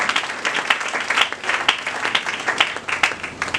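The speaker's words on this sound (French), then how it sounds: "Acclamons pour le Seigneur Jésus." Congregation clapping in a church service, a dense steady rhythmic applause at close range with a faint voice underneath.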